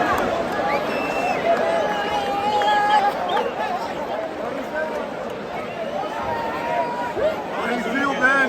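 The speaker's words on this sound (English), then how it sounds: "the people in there are cheering for the bulls" A large crowd in a bullfighting ring roars and chatters continuously, a dense, steady wall of cheering and hubbub with scattered shouts, loud and unbroken throughout.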